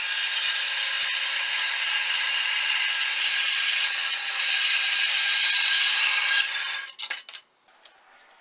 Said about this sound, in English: get this marked off and over to the bandsaw and get it cut out